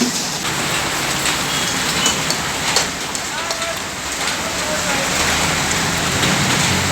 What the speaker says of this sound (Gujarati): બધે ફૂલ વરસાદ ચાલુ હો ભાઈ